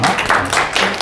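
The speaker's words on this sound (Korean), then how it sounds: "박수 한번 주시겠어요?" A seminar audience at a financial planning session gives a short burst of applause, dense close clapping in quick pulses.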